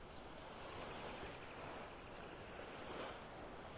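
Ocean waves washing onto the beach at North Naples, Florida on a hot, humid early morning, a continuous soft rush of surf with some wind noise, distant and even, with no voices.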